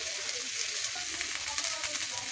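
Chopped garlic fries in hot oil in a pan with a dense, constant sizzle and crackle, close and even throughout the short stretch, with no talking.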